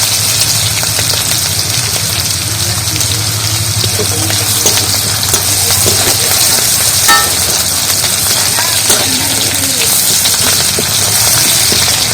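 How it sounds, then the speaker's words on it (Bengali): A paste of onion, green chili, ginger and garlic frying in oil for a prawn dish, producing a loud, dense, constant sizzle with a low hum and light stirring underneath. "সব মশলাটা ভালো করে ভেজে নেব"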